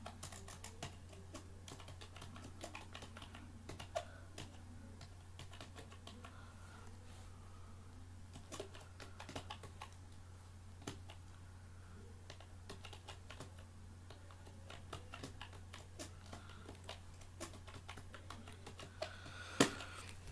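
Steady, continuous typing on a computer keyboard, rapid light key clicks running for a long stretch over a low constant hum, close and fairly quiet with no talk.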